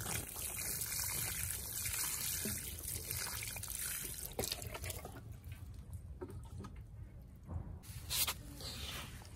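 Water pours and trickles steadily onto bamboo cuttings in soil, a faint continuous splashing with a few brief louder spatters toward the end.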